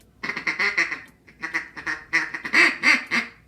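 A duck call blown in fast, rapid ticka ticka feeding chatter, dense bursts of quacking notes run together in quick succession, close and fairly loud with no talking.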